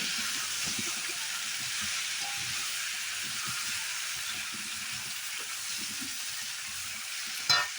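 Green chili and turmeric powder stirred in hot oil in a pan for a fish and potato curry, a continuous hissing sizzle with light scraping, ending in a brief sharp clatter.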